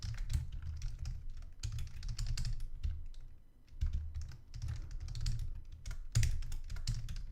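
Fingers rattle across a computer keyboard that is acting up, quick bursts of close clicky keystrokes broken by short pauses, fairly quiet and steady with no talking.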